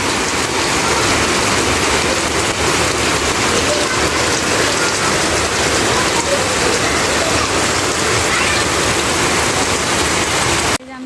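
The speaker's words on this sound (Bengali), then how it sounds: "আজকে আর থামার নাম নেই বৃষ্টির" Heavy rain pours down steadily on a flat house rooftop, a dense, unbroken hiss that stays loud for the whole stretch before cutting off abruptly at the end.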